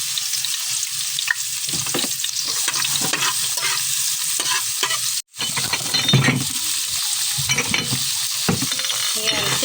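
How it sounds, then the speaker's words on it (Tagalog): Garlic sizzling and frying in hot oil in a pan, a steady loud crackle with a spoon scraping and stirring through it, near and continuous, with one brief pause. "Lunod na natin yung bawang. Let's make it golden brown again."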